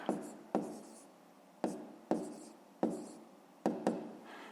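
Pen or chalk strokes writing out a fifth-grade fraction math solution, a series of sharp scratching strokes in a steady rhythm, each starting with a crisp attack and trailing off, close and fairly quiet with no talk.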